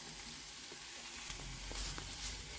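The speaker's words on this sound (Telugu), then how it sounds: "రెండు నిమిషాలు ఈ పచ్చిమిర్చి, వెల్లుల్లి కొంచెం వేగి పచ్చి వాసన పోయేదాకా కొద్దిగా వేగనిద్దాము." Green chillies and garlic fry in a pan with a steady, faint sizzle, joined by a few light stirring clicks and scrapes partway through.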